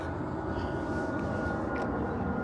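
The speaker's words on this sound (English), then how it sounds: "Oh, here goes an airplane. Yeah, we're near the Philadelphia International Airport" An airplane flying overhead near Philadelphia International Airport, a steady, broad roaring drone that holds evenly throughout with no pauses.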